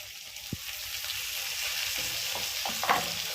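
Steady sizzling of tomatoes frying in a hot pan, with occasional stirring scrapes and small clatters throughout.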